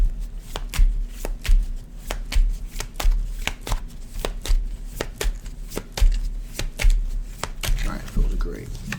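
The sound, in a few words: shuffling tarot cards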